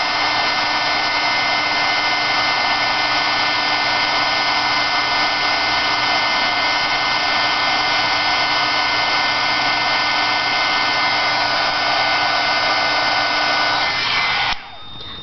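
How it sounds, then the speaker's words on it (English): A heat gun blowing on freshly painted metal jewelry pieces, a loud steady blowerlike whoosh with a constant motor hum that holds for about fourteen seconds before it cuts off abruptly. "with my heat gun"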